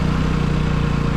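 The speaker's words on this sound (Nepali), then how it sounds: "बाइक त पुरा चिप्लिरहेको छ" A motorcycle engine drones steadily and loud as it labours on a slippery, cold mountain road, a continuous low mechanical hum without pauses.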